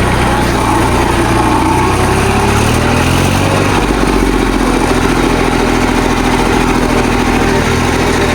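Tractor engine running, a loud steady close diesel rumble that shifts in pitch partway through as the tractor works in a field, with no voices.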